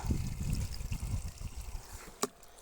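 Dissolved saltpeter solution poured into a container makes a soft, uneven splashing trickle, strongest at the start and tapering off, with one sharp knock near the end.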